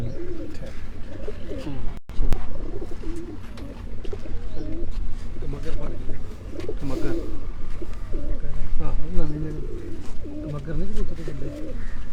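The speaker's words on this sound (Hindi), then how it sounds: "ये इसी तरह चौधरी अहमद के हाथ में भी 201 कबूतर" Pigeons coo in low, repeated throaty calls, close and steady, with voices talking over them and rustling movement.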